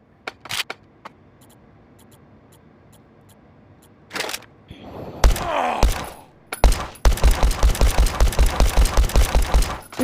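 A Glock 17 pistol fires in the VR game Hard Bullet: a few sharp single shots with mechanical clicks, a burst of scuffling movement, then a rapid, evenly spaced string of loud close shots.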